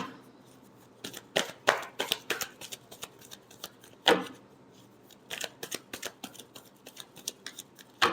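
Tarot cards are shuffled by hand in quick, crisp riffling bursts with short pauses between them, close and fairly quiet, with no talk over them.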